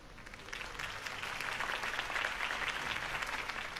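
A crowd applauds a campaign speech with dense, continuous clapping that swells slightly and holds steady, heard at moderate distance without voices.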